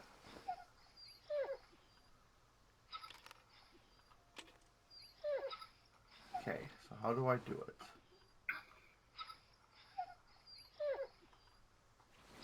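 A dog in a dark woods horror game whimpers and yips in short, faint, repeated bursts from outside, with people talking between and over the cries.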